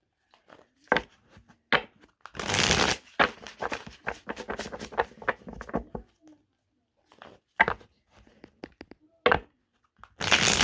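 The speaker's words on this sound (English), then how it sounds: "Shuffle this deck a couple times." A deck of tarot cards is shuffled by hand in quiet surroundings, with sharp riffling bursts, rapid flutters and scattered taps separated by brief pauses, close and fairly soft.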